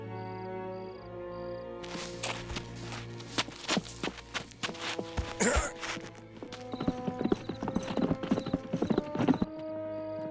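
Horses walking through a forest, their hooves clip-clopping in an uneven rhythm on the ground, with a whinny breaking in partway through and more hoofbeats building near the end.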